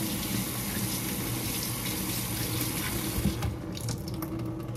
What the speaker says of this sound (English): We're gonna rinse it out